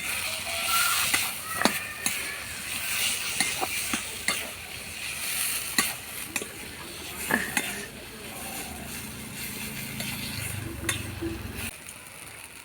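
Jackfruit chop filling being stirred and fried with roasted spice powder in a pan, a soft continuous sizzle under repeated scraping clicks of a spoon against the pan, close and fairly quiet.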